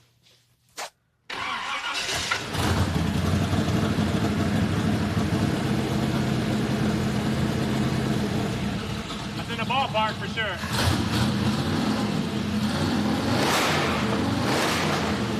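A 1920s-style T-bucket hot rod engine fires up and settles into a loud, rumbling idle that continues steadily, with a brief comment spoken over it.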